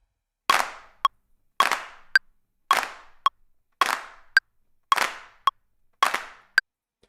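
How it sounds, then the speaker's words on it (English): A clap sample in a music production track repeats seven times at a steady rhythm, each crisp clap followed by a short bright click, loud and dry with silence in between. "I'm gonna rename this track claps, and continue to modify that clap."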